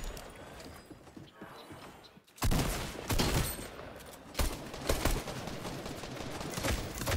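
Fortnite gunfire starts abruptly after a quiet lull and then holds as a steady, dense volley with several sharper shots punching through, loud and continuous until the end.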